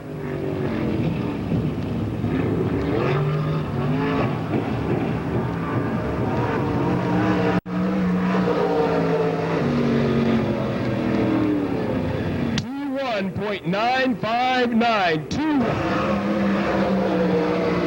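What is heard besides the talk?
race cars at Pennsboro Speedway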